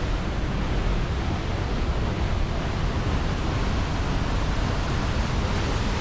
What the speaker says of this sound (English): look at the force of the waterfall folks